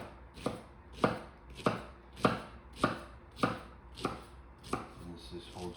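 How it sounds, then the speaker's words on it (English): A knife slices through a pineapple in about eight steady, evenly spaced strokes, each a crisp, close chop with no one talking. "and then I start slicing"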